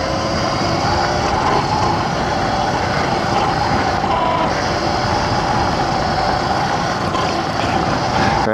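An X Pro dirt bike ridden in second gear on a gravel trail, its engine droning loudly and continuously with broadband road and wind rush throughout.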